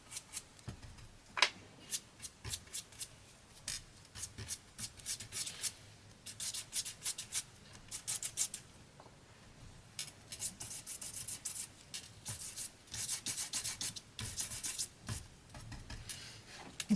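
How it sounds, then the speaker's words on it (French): A stencil brush rubbing 3D paste onto a surface in quick scratchy bursts, close and fairly quiet, repeating irregularly with short pauses and no talk. "carrément prendre une brosse à pochoir"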